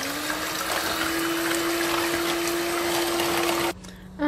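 Electric mixer beating cake batter of eggs, oil, milk, sugar and a pinch of salt for a chocoflan sponge, a steady continuous whir that runs loud and unbroken before cutting off abruptly near the end.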